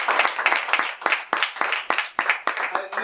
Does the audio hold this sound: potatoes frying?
no